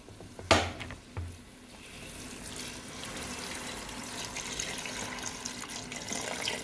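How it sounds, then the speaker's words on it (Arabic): Hot water poured into a cooking pot while making Kuwaiti machboos with chicken, bay leaves, cardamom and mixed spices: a couple of sharp knocks, then a steady, close, continuous rush of running liquid with no talk. "بعدها نحطو الماء السخنه."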